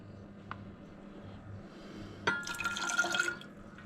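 Lime and lemon juice for a tamarind margarita pour into a glass, a faint tap at first, then a short trickling splash toward the end in a quiet room.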